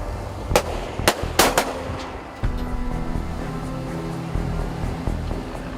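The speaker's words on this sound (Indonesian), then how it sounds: "Persiapan, tembakan 1 kali." Gunshots ring out from an Indonesian patrol ship closing on a foreign fishing boat off Natuna, several sharp loud cracks in quick succession over a constant engine rumble and sea noise.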